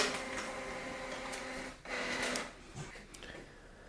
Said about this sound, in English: The printer will take automatically the page and it will come out over here.